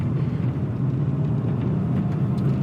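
A 2003 Ferrari 575 Maranello with an F1 gearbox pulls away gently from a bumpy yard, giving a low steady engine rumble and whir, close and continuous.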